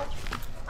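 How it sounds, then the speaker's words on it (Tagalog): A dog in an abandoned, flood-submerged area of Marilao, Bulacan gives a few short, muffled barks or yips at middle distance within less than a second. "Bro, wag na tayo dyan, may aso dyan."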